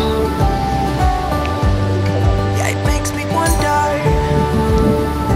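Steady rain falls across a scenic outdoor spot, a dense continuous hiss filling the scene with distant rumbles underneath and faint voices mixed in.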